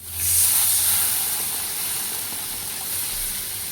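Water poured into a hot pan of sizzling spice paste bursts into a loud, close hiss of steam that swells at once, then settles into a steady sizzle for a few seconds.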